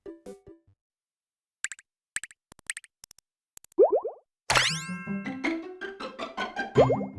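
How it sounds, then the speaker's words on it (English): Wii Play table tennis: a video game ball bounces back and forth between paddles in quick plopping taps, followed by a bright springy boing and a run of bouncy electronic tones. "The rhythmic back and forth of the ball bouncing between paddles is just naturally fun to listen to"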